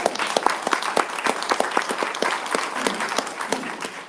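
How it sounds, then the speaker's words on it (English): An audience at a city commission candidate forum breaks into brisk applause, many hands clapping in a dense, fairly close patter that holds steady for a few seconds. "So give them all a round of applause."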